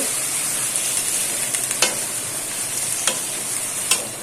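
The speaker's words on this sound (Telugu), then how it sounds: "అలా ఒక టూ మినిట్స్ కలుపుతూనే బాగా ఫ్రై చేసుకోవాలి" Brinjal pieces are fried in a pan with a constant close sizzle. A utensil scrapes and clicks against the pan every so often as the pieces are stirred, and nobody speaks.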